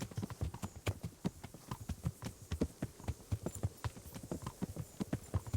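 Horse hooves clip-clopping at a steady walking rhythm in Kingdom Come Deliverance, an armored horse, a continuous run of sharp, fairly close hoof strikes on hard ground with a faint hum behind.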